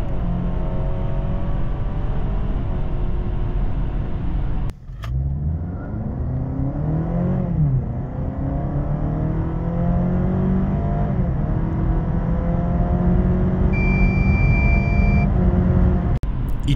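A Honda ZR-V 2.0 i-MMD hybrid accelerates hard in Eco mode, its engine droning loudly with rising pitch, a brief dip, then a long steady climb under a whirring hum, heard from inside the cabin.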